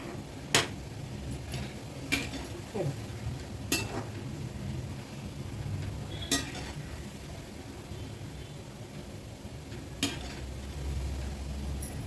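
Shankarpali frying in oil over a low gas flame, a soft steady sizzle close by, broken by a few sharp ticks and taps from a utensil, with no talking.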